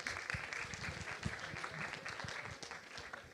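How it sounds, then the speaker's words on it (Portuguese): An audience claps together at a university conference panel, a steady dense patter of applause that stays fairly faint and even from start to finish. "Uma salva de palmas."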